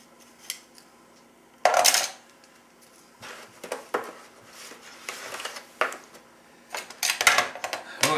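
Metal tongs lift and turn a hot 2004 MRE meatloaf in gravy, giving sporadic close clinks and scrapes with quiet gaps between them and a sharper burst of clatter near the start.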